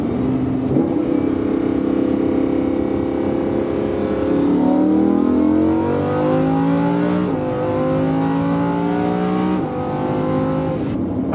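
A sports car engine revs and climbs through gears, pitch rising then dropping at each shift, loud and close from inside the car.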